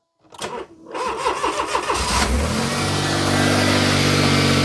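A Smart Fortwo 450 engine cranks with a rapid, rhythmic starter churn for about two seconds, then fires and settles into a loud, steady idle with a constant hum.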